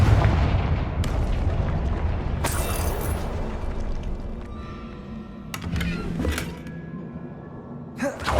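Booming blasts from the Confringo spell in Hogwarts Legacy burst out several times in a row, sharp bangs landing over a continuous rumble of battle noise.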